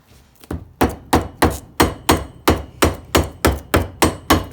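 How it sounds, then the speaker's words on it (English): Steady hammer blows knock a boot joint flat while restoring a dog-chewed boot, about twelve evenly spaced sharp strikes after a brief quiet start, close and loud, with no talk. "go around and just knock it with the hammer"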